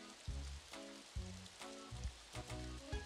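Rain falling steadily in the farming video game Story of Seasons: Pioneers of Olive Town, a constant hiss under repeating soft game music notes, with no voices.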